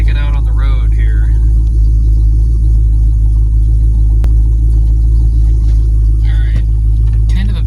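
Steady interior drone of a car pulling out onto the road, with a deep, constant low engine and road rumble throughout, sound deadening fitted, and someone talking intermittently over it.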